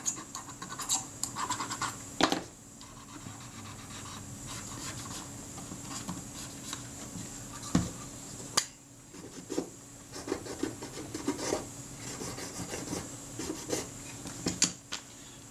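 Leatherette residue is scraped off the metal body casting of a Retina Reflex S camera, heard as close, irregular scratching strokes with sharp rasping bursts and short pauses between them.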